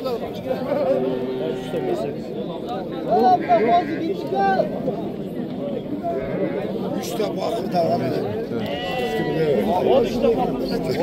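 Several sheep bleat repeatedly amid a busy crowd of people talking at a sheep and goat market in Nookat, Kyrgyzstan, with overlapping calls near and farther away throughout.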